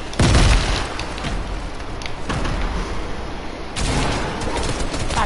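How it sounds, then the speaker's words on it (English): A grenade blows up in a video game with a loud, heavy boom at the start, followed by a long roaring rush of noise with bursts that sound like gunfire, close and dense throughout. "Grenade out, grenade out, grenade out."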